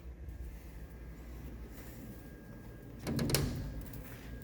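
Enclosure doors on a Forest Scientific CNC router are shut in a quick clunk of closing about three seconds in, following low steady background hum with no talking.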